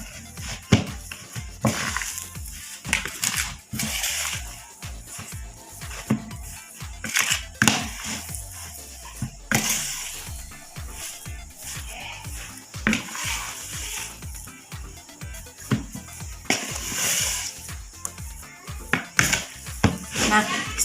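Fish feed mixture being stirred with water by hand, with scraping, clattering knocks and wet sloshing in an irregular rhythm, heard close, with a voice speaking at times.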